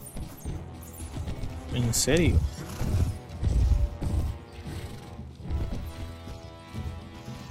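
Horses gallop in the Mount and Blade Warband medieval game, a rhythmic clip-clop of hooves with mechanical clatter under someone talking, a whinny-like burst rising briefly midway.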